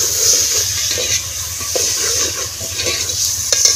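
Onions browning in a frying pan in a Pakistani village kitchen give a steady close sizzle and hiss with faint stirring scrapes, continuous and without talk.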